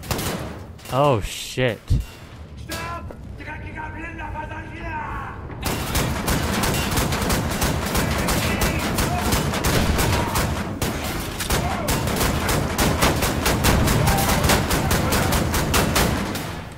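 Sustained rapid gunfire from shooting an enemy in the video game Wolfenstein: The New Order, dense bursts running continuously for about eleven seconds after a short exclaimed voice and some brief effects at the start.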